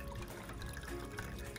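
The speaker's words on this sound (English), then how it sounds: "I am just filling it to the max line with filtered water." Filtered water runs into a LetPot hydroponics tank being topped up to its max line. The trickle is faint and continuous, heard close with no talking.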